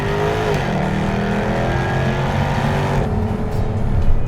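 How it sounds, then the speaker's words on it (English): A Jaguar F-Type R all-wheel drive sports car on a race track blares a loud, continuous exhaust roar, holding a steady engine drone before shifting and rising again near the end, close and dominant. "this car has the baddest, the most antisocial exhaust note this side of a V8 supercar."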